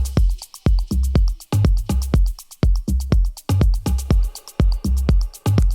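Full melodic techno drum groups from an outro play loud and alone: a steady four-on-the-floor kick with booming low thumps, crisp hi-hats and percussion ticking between the beats in a tight driving rhythm.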